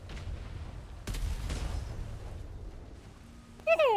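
Ship cannons firing in a naval roleplay video game, heavy booming blasts with rumbling low-end tails, followed near the end by a brief electronic warbling tone.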